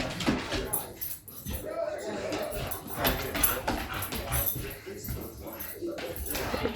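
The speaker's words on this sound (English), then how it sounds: "There's my dad playing tug of war with my cousin's dog." A dog tugging at a rope toy with a man in a family Thanksgiving game, growls and whimpers blending with steady chatter and shuffling all through.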